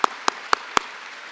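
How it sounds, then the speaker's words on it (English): Four sharp, evenly spaced hand claps close by, spaced about a quarter second apart, with a quiet pause after; the last of the applause for the musicians at a college commencement ceremony. "Another round of applause for these great folks."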